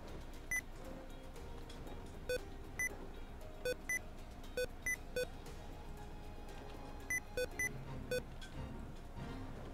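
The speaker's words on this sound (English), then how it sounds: "Okay, so apparently my caps lock key makes noise" Computer caps lock key beeping during a Final Fantasy XIV session, a dozen or so short, high electronic bleeps in irregular pairs and singles over faint background game sound.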